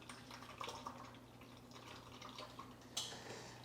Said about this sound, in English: I'm going to transfer this beer into the fermenter at